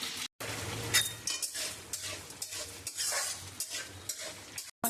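Mutton for mutton chaap sizzles in a hot pan while being stirred, with repeated metallic scrapes and clinks of the spatula against the pan and short pauses between strokes, heard up close.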